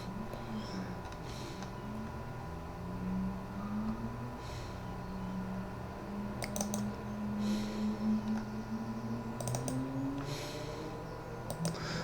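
Scattered sharp computer mouse clicks while working in the Construct 3 editor, arriving in small irregular bursts over a steady low electronic hum, close and fairly quiet.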